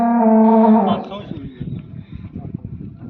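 An HF cow on a farm near Bathinda lets out one loud, close moo lasting about a second, followed by low rustling and shuffling noises.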